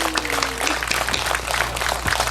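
A crowd claps through the whole stretch at a festival opening ceremony, the Hwasun Jeokbyeok festival, with dense, even applause over a low hum from the venue sound system.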